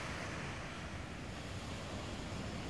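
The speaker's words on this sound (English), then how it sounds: "Just another day out here at the beach." Ocean waves wash steadily onto a beach at Cayucos, a continuous broadband roar of surf with some wind noise on the microphone, fairly loud and unbroken with no talking.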